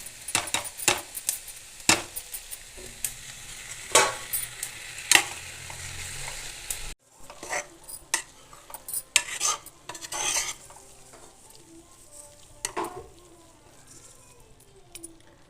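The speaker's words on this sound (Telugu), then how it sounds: "ఇప్పుడు చూడండి ఆనియన్ వేగిపోయినాయి కదా" Onions fry in a pan for a dal dish while a metal spoon stirs and scrapes them, making repeated sharp clinks and scrapes over a soft sizzle, close and uneven in rhythm.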